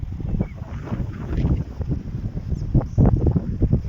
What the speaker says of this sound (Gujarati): પવન જીકું મારે છે, વાવાઝોડું મિની ચાલુ છે